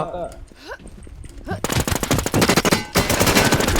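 Rapid automatic gunfire in the online survival shooter Infestation, loud and continuous after a brief quieter stretch of game sounds, with bursts of shots packed closely together.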